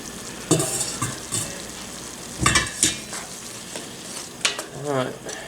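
Drained meat is stirred back into a pot of camp chili, with repeated scraping and clanking strokes of a utensil over a low simmering sizzle, close and uneven in rhythm.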